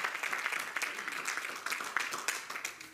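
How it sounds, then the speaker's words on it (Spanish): Church congregation clapping during a sermon, a steady dense patter of many hands with scattered cheers, moderately close and continuous throughout. "denle un aplauso"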